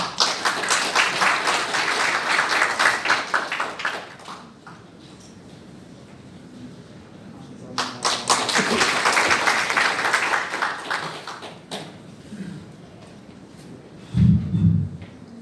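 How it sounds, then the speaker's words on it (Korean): A crowd at a conservative group's gathering in the National Assembly building in Yeouido, Seoul, applauds loudly for several seconds, the clapping fades, then swells again in a second long burst before dying down. "다시 한번 뜨거운 박수 부탁드립니다"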